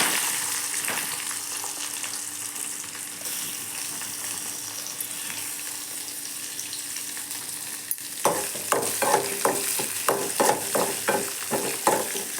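Onions sautéing in hot oil with mustard seeds and chana dal for a broad bean stir-fry: a steady broadband sizzle that grows busier near the end, with a run of sharp spoon scrapes and clacks against the pan.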